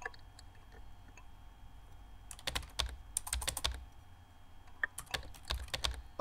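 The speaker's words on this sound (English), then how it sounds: "I actually have to hit the keys." Keyboard typing in the game Emily Is Away, close bursts of rapid key clicks separated by brief pauses, loud against a quiet background.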